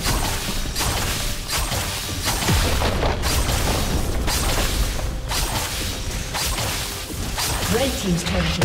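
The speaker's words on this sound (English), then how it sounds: "Red team's turret has been destroyed." A turret collapses in League of Legends top lane, a heavy booming crash with whooshing and clattering effects layered into continuous loud battle noise, while an announcer voice speaks.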